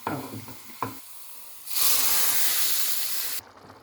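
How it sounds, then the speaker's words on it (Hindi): A few soft clinks and stirs, then a loud burst of sizzling as spices hit hot oil for tempering whole masoor dal, hissing steadily for about two seconds before cutting off. "मैं तड़का लगाती हूँ"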